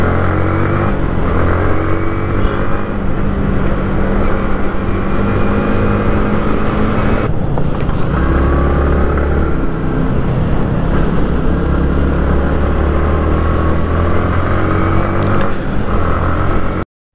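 Several Yamaha MT15 motorcycles at a riders' meetup near Kasarsai dam in Pune, engines droning loudly and revving as the bikes ride off one after another, continuous close engine noise with a shift in tone midway.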